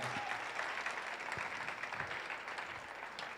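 A church congregation claps hands together in sustained, dense applause that fills the room evenly, with a few louder individual claps standing out.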